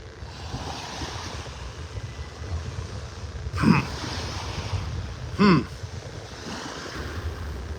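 Ocean waves wash onto a beach in North Naples, Florida, as a steady broad roar with a little wind noise. Two brief sharper sounds stand out over the surf.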